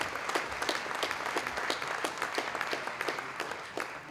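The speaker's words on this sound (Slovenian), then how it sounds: "aplavz naj bo namenjen prejemniku Bloudkove plakete za leto 2022, Toniju Vodišku." Audience applause at a Slovenian state award ceremony for the Bloudek plaque recipient, a steady patter of many hands clapping that holds at moderate level throughout with no speech over it.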